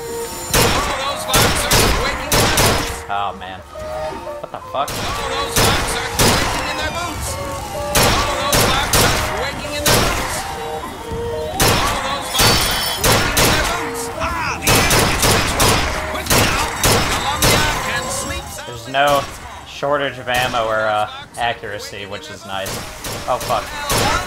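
Rifle gunfire in the video game Bioshock Infinite, loud repeated shots in rapid bursts with brief pauses, dense and continuous across the whole stretch, mixed with other in-game combat noise.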